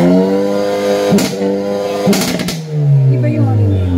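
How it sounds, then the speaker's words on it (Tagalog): Stock Hyundai Elantra tuned for pops and bangs, its engine droning steadily close by while two sharp crackling bursts of exhaust pops break through, then the revs sag and fall away at the end. "Iba yung Pops and Bangs."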